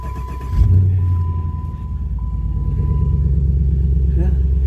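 A cold start of an LT1 engine, which fires up with a sudden deep rumble and then settles into a steady low idle while a faint tone sounds and someone speaks briefly.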